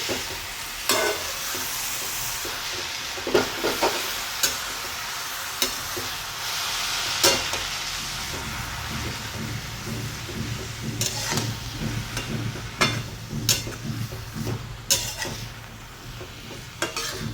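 Moth bean dal with fenugreek sizzles and fries in a pan over a high gas flame, a steady hiss broken by repeated metal spoon scrapes and clinks against the pan, close and without speech.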